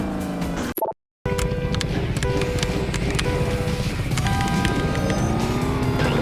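A booster effect from the KartRider racing game on the Ventus evo kart: a continuous whooshing engine drone with tonal game sounds, broken by a brief cut of silence near the start.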